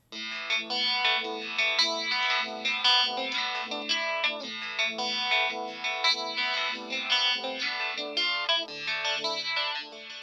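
A double-tracked rhythm guitar runs through a Jam Pedals Retro Vibe as a line send, giving a swirling, chorus-like warble over strummed, distorted chords that pulse steadily and loudly throughout.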